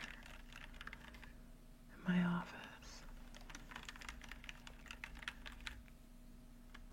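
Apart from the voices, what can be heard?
typing on a computer keyboard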